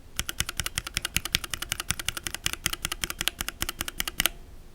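Typing on Gateron Linjar mechanical keyboard switches, a fast run of crisp, evenly spaced keystrokes with a slight metallic ping, close and alone for about four seconds before stopping.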